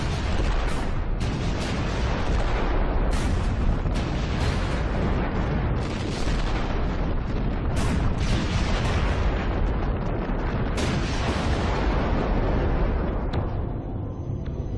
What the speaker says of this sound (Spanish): La lucha de la artillería dura toda la noche.